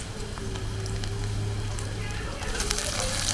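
Tomatoes go into onions already frying in oil, and a steady hiss and crackle of sizzling grows louder near the end, with talk over it.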